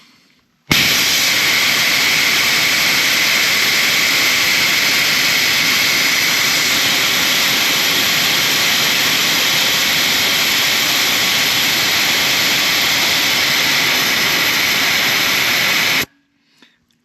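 Air rushes out of an off-road tire through Apex rapid precision valves, a loud, steady, close hiss that starts abruptly, holds evenly for about fifteen seconds, then cuts off.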